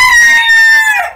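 A rooster crows in a chicken coop, one loud, close, drawn-out cock-a-doodle-doo that fades at the end, with no one talking.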